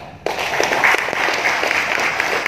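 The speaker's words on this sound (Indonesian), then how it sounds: "Tepuk tangan untuk kita." Listeners at a trade union talk on industrial relations disputes break into applause after a brief silence: a dense, fairly loud, even wash of clapping that continues to the end.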